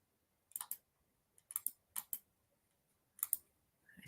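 Keystrokes on a computer keyboard come in quick, quiet clusters of clicks separated by short pauses, close and faint, with no voices.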